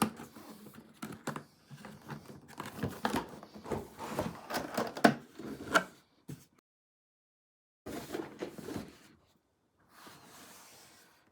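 Packaging for an MSI Crosshair 18 HX AI 18-inch laptop being opened, with bursts of crinkling and rustling through the first six seconds, a pause, then more handling noise close by.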